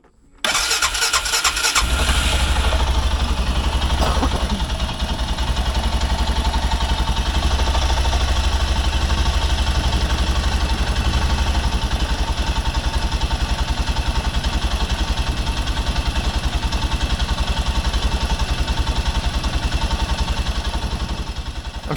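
After its fuel pump fuse is replaced, the engine of a Prowler being rebuilt cranks and catches, then runs loud and steady close by for about twenty seconds without any talking.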